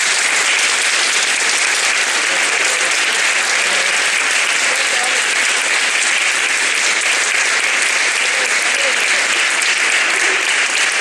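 Steady, dense audience applause at a cheese festival event, loud and continuous throughout with no pause, filling the room with clapping.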